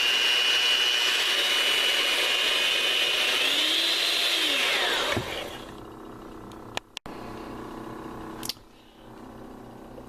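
An electric hand mixer whips egg yolks for a fruit-and-cream cake with a steady, loud whirring drone whose pitch sags as the beaters slow, then cuts off partway through, leaving faint clicks and clatter.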